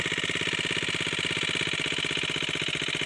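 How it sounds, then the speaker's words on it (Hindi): A four-stroke motorcycle engine idling steadily close by, with an even, rapid thumping pulse that holds constant throughout and no voices over it. "मोटरसाइकिल का आवाज है"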